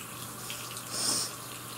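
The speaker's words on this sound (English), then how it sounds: "So we'll go ahead and water my face up." Bathroom sink tap running steadily to wet the face at night, a soft continuous hiss of water with a brief swell of splashing midway, close and alone.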